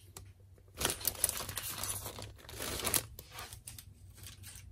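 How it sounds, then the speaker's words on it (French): Crinkling and tearing of plastic packaging as a Studio Calico scrapbooking notebook is unwrapped, a close, fairly quiet rustle that swells for a couple of seconds and then trails off into softer handling noises. "Alors, je vais les déballer."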